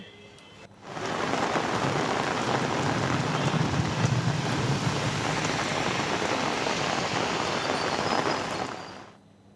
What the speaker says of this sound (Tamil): சுமார் ஒரு மணி நேரத்திற்கு மேலாக கனமழை பெய்தது